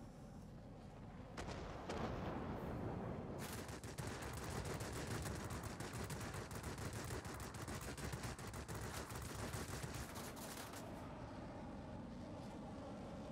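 Rear gunners on an aircraft firing in a World War-era flight combat video game, continuous rapid machine-gun bursts rattling for several seconds, loud and dense, with a brief pause before the firing resumes.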